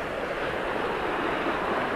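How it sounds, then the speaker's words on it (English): Fast-flowing river water rushing through a pool on a trout stream, a loud, steady broadband roar with wind buffeting close to the microphone and no voices. "It's like a wind tunnel, and this water is absolutely belting through."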